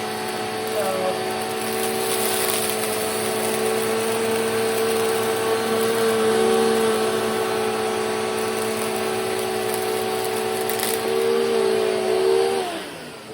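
Filter Queen Empress vacuum cleaner running on a rug, a steady loud motor whine with a constant high tone that shifts slightly in pitch before dropping near the end.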